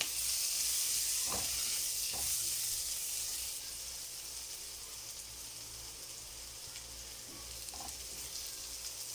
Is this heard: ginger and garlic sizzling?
yes